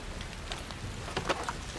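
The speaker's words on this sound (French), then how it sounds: "Putain de pluie." Rain falling outdoors near a swamp, a soft continuous patter with a few sharper drop hits toward the end, faint and steady with no voices.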